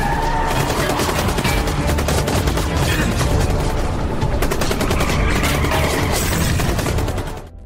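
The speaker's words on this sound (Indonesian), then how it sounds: "Tembakan bertubi-tubi pun dilepaskan" Soldiers under pursuit loose a dense, unbroken barrage of gunfire, loud and close, with overlapping shots and booms filling the whole stretch before it fades at the very end.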